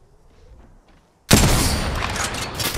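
A sudden loud burst of rapid gunfire in Apex Legends erupts after a near-silent moment, sustained and close, with dense overlapping shots continuing to the end.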